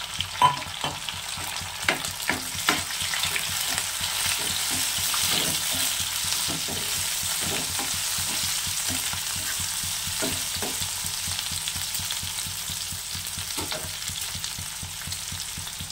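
Tomato and green chillies sizzle and fry in a pan for a fish curry, a steady crackling hiss with intermittent stirring clatters and scrapes throughout, fairly close.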